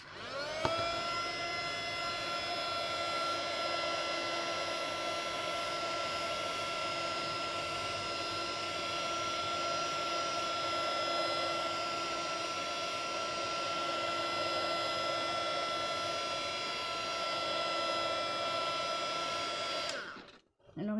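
A heat tool warms stamping foam with a steady, whining blower roar that holds evenly for about twenty seconds before switching off abruptly, leaving a brief clatter.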